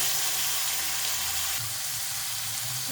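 Chopped potatoes fry in hot oil for a cabbage dish, giving a steady, close sizzle that runs without a break, with faint scraping from stirring. No one speaks.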